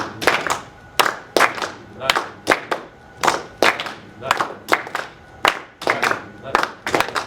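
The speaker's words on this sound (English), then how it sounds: "Clap on your first la and your last la." A group at a jazz education session claps together in a repeating rhythmic pattern, crisp close claps in regular pairs and clusters over about seven seconds, steady and unaccompanied by talk.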